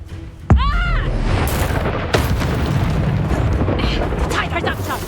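The Confringo fire spell from Hogwarts Legacy bursts with a loud, booming explosion, then a second blast follows, leaving a rumbling, crackling roar with spoken game dialogue heard over it.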